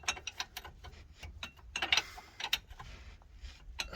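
A car suspension bolt on a BMW 335d being loosened with a small torque bit after WD-40: quiet, close metallic ticking and ratcheting clicks in short irregular runs, with faint background hum and no speech.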